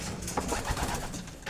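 Racing pigeons cooing softly inside a small loft, a steady low murmur of overlapping coos that carries on throughout without a break.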